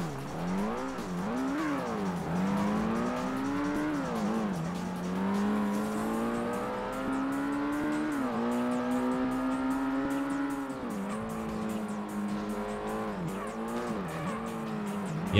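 A Ford GT90 in the Ford Racing video game drones loudly and harshly, its engine pitch repeatedly climbing and dropping through gear changes, with tire squeal mixed in.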